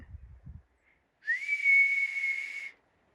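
A marmot gives a single long, shrill whistle, clear and loud for over a second, after a few faint low thumps.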